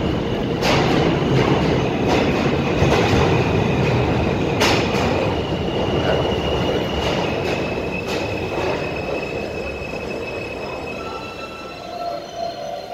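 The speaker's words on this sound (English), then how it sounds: "you listen in real time for all the trains that's going through the station" New York City subway trains rumble through a station with clattering wheels and high metallic squeals, loud at first and slowly easing off.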